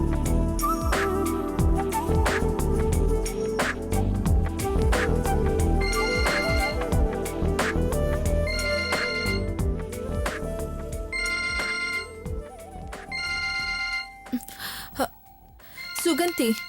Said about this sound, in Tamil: யாரும் ஃபோன் பண்றாங்க பாரு.